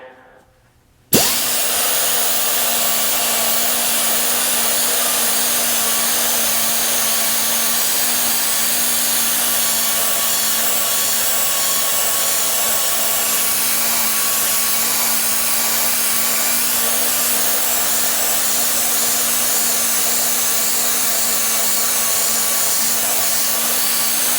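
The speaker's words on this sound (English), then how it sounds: "So you need to keep the die grinder moving." A die grinder spinning at high speed on an engine cylinder head during a head gasket job: it starts abruptly after a brief quiet moment, then holds a loud, steady, high-pitched whine with no pauses.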